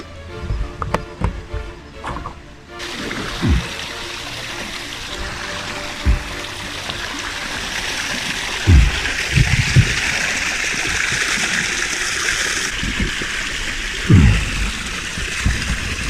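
Sea water sloshes and splashes at a calm shore as a hand reaches in, a steady close wash with occasional louder splashes and gurgles.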